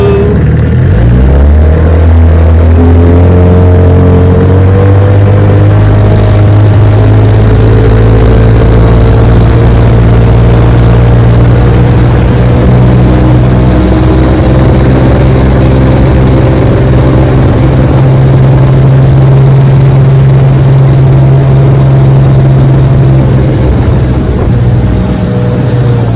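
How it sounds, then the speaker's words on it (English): A 1968 Evinrude 9.5 HP outboard motor runs steadily on a lake, its loud, constant drone holding pitch the whole time with only slight shifts and no talking. "Awesome little motor. Like I said, she idles"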